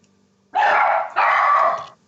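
A dog barks loudly nearby, two long rough barks in quick succession, heard during an online council transport board meeting with no talk over them.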